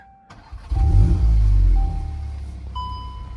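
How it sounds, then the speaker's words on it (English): A 2025 Volkswagen Golf R engine cranks and catches in comfort mode with exhaust valves closed, roaring up loudly before settling into a steady idle; a faint electronic chime sounds near the end. "Let's fire this thing up, and I'll get you guys just some idling clips."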